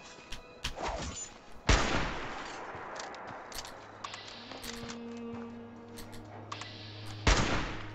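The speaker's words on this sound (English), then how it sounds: "Someone is shooting me." Gunfire from another player in the online game Fallout 76: a string of sharp, loud shots scattered through the clip, with heavy blasts near the start and end over a rumbling game background.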